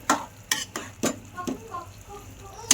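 Soybean masala vegetable being stirred in a pan, a series of sharp spoon-on-pan scrapes and taps spaced about half a second apart over a soft background sizzle.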